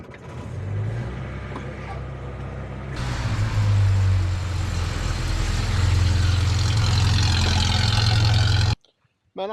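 A little Datsun car engine cranks and catches at about three seconds, then runs at a steady loud idle for several seconds before cutting off abruptly near the end.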